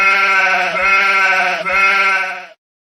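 Recorded goat bleat played back, one long loud wavering cry followed by a second, then cutting off abruptly into silence, with no voices over it.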